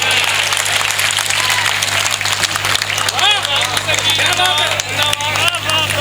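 Crowd at a Hindi poetry recital claps and cheers loudly throughout, dense applause mixed with whoops and chatter.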